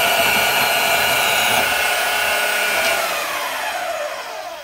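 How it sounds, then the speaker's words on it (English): Bandsaw cutting through a Pontiac intake manifold water crossover, a loud steady whining buzz of blade on metal that holds for several seconds then eases slightly as the cut finishes. "So now I'm going to go back to my bandsaw and get closer to the edge."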